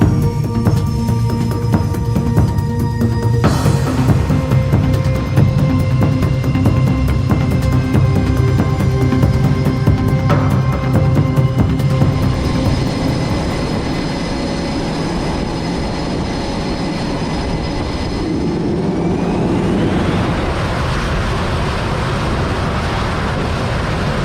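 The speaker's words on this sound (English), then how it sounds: "they actually use a launcher to launch airplanes off and get them up to speed in a very short space" A loud, sustained jet engine roar with rising whine, a sharp burst near the start, then the roar fading to a lower rumble as an aircraft carrier catapult launches the airplane away.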